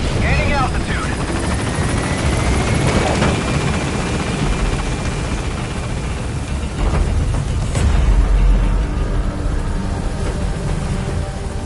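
The Pequod helicopter gaining altitude in Metal Gear Solid V: a loud, steady rotor roar with a rising whine and a sharp thump near the end, with game voices over it.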